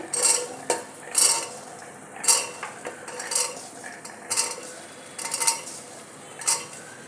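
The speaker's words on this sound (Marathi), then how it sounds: "आता हे भिजलेले छोले याच्यात घालून घेऊया." Soaked chickpeas are tipped into a pan and stirred with a metal spoon, giving repeated close scraping clanks against the pot in uneven bursts, with a faint sizzle underneath.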